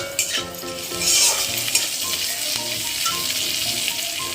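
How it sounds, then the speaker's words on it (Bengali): Bitter gourd (karela) sizzles and fries in a pan, with steady close hiss, a couple of louder spits, and occasional stirring scrapes and utensil clinks throughout. "আর এখানে বসেছি করলা ভাজা।"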